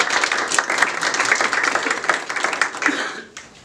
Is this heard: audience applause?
yes